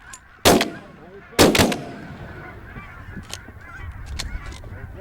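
Two loud, sharp shotgun blasts ring out about a second apart during a goose hunt, each trailing into a short echo, followed by faint goose honks and outdoor ambience.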